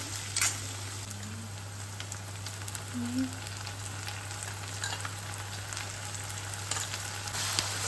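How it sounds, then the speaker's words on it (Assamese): Sliced onions fry in oil with two dried red chillies, cooking toward golden brown in a steady, dense sizzle that runs throughout alongside a constant low hum, with no speech. "এতিয়া পিঁয়াজখিনি গোল্ডেন ব্ৰাউন হোৱালৈকে ভাজিম"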